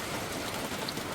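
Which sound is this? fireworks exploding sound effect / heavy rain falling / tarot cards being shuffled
heavy rain falling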